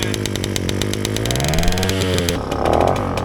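A small Romet moped engine buzzes steadily after starting, a rapid loud rattle that rises and dips slightly in pitch, close by.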